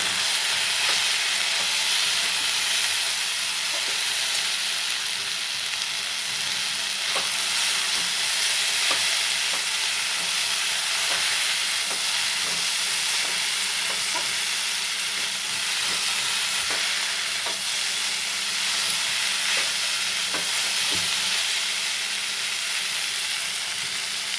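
Okra and potatoes frying in a pan with turmeric, a close constant sizzle broken by repeated scraping taps of a utensil as they are stirred, and no voices.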